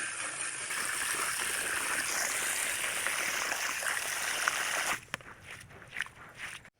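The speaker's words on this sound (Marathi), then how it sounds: "गहू धुवायची प्रोसेस चालू आहे." Wheat grains being washed in water at home, a continuous sloshing, trickling rush for about five seconds that then breaks into a few scattered splashes and drips.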